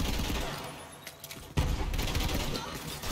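Gunfire from weapons in the shooter game Borderlands 3, a dense rapid burst of shots with heavy recoil, loud and close, with a sharp blast near the middle and a brief lull before it.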